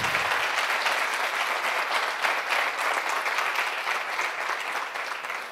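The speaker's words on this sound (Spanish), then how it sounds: "me vas a permitir que les dediquemos un aplauso al grupo que nos ha tocado al" An audience at a company's 25th-anniversary celebration applauds a band with dense, steady clapping that holds strong for several seconds before easing slightly at the end.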